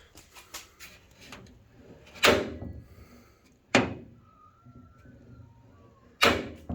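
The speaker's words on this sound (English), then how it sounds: "I mean, the door doesn't have any problems open or closing." The door of a Ford Falcon XB GS coupe, mid hinge repair and hollow without its trims, swings open and shut: three loud, close metallic thunks, each with a short rattling tail, separated by quieter handling noises.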